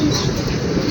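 A racing pigeon coos softly at the loft on arrival from a pooling race, a brief low murmur close by over a faint background hum.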